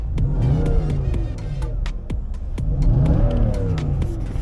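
A 2019 Nissan Titan pickup truck engine revs hard and steadily at full throttle, its pitch climbing and falling in two long surges, close and loud, with a few sharp clicks on top.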